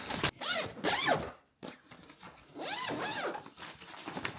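A zipper on the pocket of a large check-in roller suitcase is pulled in two quick, raspy runs separated by a short pause, close and clear with no talking.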